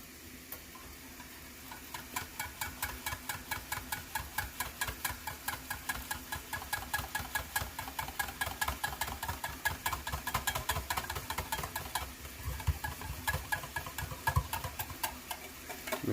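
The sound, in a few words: whisking butter into hollandaise sauce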